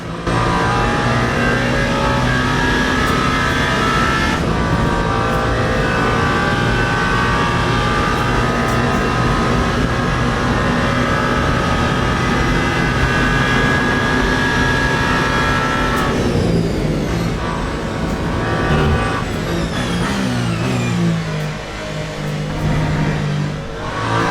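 Race car engines roar continuously in the Le Mans Ultimate sim during the 24 Hours of Le Mans on hard tires, with a steady loud drone and shifting pitch as cars race, a brief dip and lull near the end.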